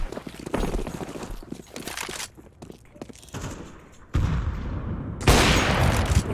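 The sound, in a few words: gunshot in the Counter-Strike 2 video game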